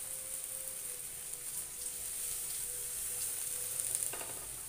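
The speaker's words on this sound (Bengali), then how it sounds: "এই যে তেল ছাড়াই কিন্তু দিয়ে দিচ্ছি বেগুন" Eggplant slices frying in a pan with no oil, a steady, soft, even sizzle holding alone for several seconds, with a faint scrape near the end.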